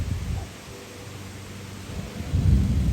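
Wind-blown rainstorm on a porch, heard as steady rain hiss with low rumbling thunder that swells at the start and again more strongly near the end.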